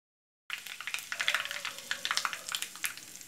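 Curry leaves fry in hot coconut oil, bursting into a crackling sizzle with quick sharp pops after a moment of silence, close and fairly quiet.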